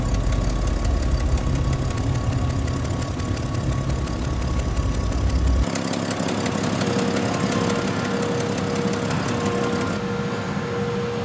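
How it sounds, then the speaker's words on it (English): Loaded transporter truck carrying harvested rice paddy drones steadily with a knocking diesel engine, loud and constant, its tone shifting midway as it heads for the factory; no voices. "Later, these transporter trucks left for the factory."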